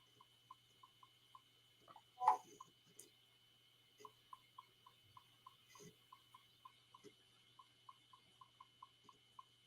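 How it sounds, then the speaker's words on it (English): Keys tapped on a computer keyboard make faint, light clicks at a steady pace over a constant electrical hum, with one louder knock partway through. "y'all can hear me typing"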